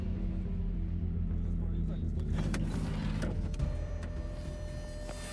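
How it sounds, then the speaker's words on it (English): A converted Bentley built as a Mad Max-style ultra tank cruises on a straight road at about 100 km/h, giving a steady low rumble with mechanical rattles and a few sharp clicks, close and fairly loud throughout. "On a straight stretch of road, the Mad Max vehicle now reaches 100 kilometers per hour."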